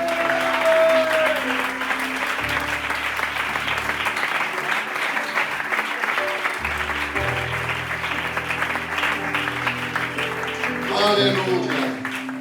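A church congregation claps at a Spanish-language evangelical service, a steady round of applause mixed with a speaking voice and sustained musical tones throughout.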